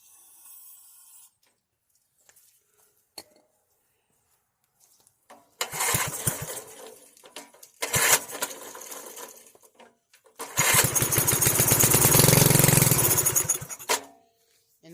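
A Briggs and Stratton small engine, just cleaned after crud in the tank, cranks in short bursts, then catches and runs loudly for a few seconds before cutting off, with a final brief pull at the end.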